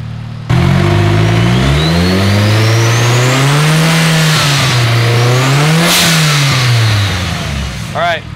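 Fully built Nissan S15 Silvia engine revving on a dyno, a loud steady drone that sweeps up and down in pitch through the pull, then drops off at the end.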